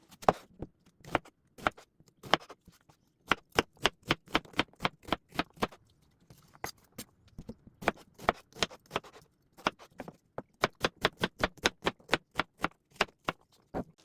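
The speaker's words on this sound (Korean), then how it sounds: "먼저 양파를 평소에 이용하는 크기로 잘라줍니다." A knife chops an onion on a cutting board in quick, evenly spaced runs of sharp knocks, close and clear, pausing briefly between bursts, with no talking.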